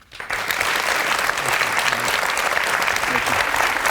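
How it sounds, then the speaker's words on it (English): Studio audience applause at a 2020 Massachusetts Senate primary debate, rising quickly after a brief quiet start into a full, loud, sustained wash of clapping for the candidates. "we'd like to take a minute right now to give Senator Ed Markey and Congressman Joe Kennedy a hand"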